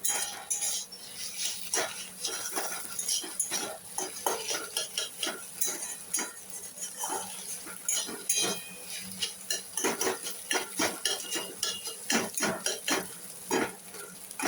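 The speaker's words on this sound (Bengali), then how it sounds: "এই ডিমটা তুলে নিয়ে আলুটা দিয়ে দেবো" A fried egg is lifted out of a pan and potatoes are added: quick, repeated metal scrapes and clinks of a utensil against the pan over a faint sizzle, close and busy throughout.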